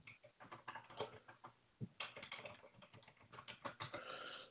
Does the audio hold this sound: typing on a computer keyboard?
yes